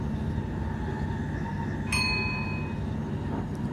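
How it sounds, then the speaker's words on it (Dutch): A train in Train Simulator 2022 applying traction and pulling away, a steady low rumbling drone with a faint electric whine, a brief metallic clink partway through and no talking. "alvast even tractie geven"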